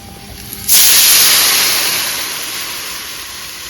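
Water poured into a hot pan of lightly fried bele fish, seasoned with salt and turmeric, sets off an abrupt loud hiss of steam that holds and slowly fades.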